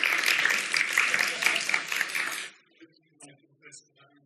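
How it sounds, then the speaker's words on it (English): Audience applause at a leadership keynote, a dense burst of clapping for about two and a half seconds that stops abruptly, followed by faint scattered sounds and a murmur of voices. "Give them a round of applause."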